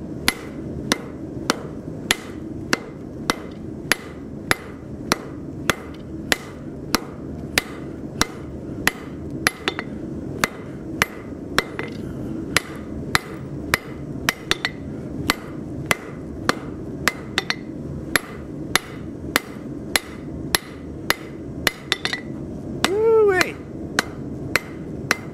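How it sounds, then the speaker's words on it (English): A 3-pound hammer strikes heated bar stock on an anvil in a forge, delivering dozens of sharp, evenly paced ringing blows, close and loud. "this is a lot more hammer than I usually work with. This is a 3-pounder."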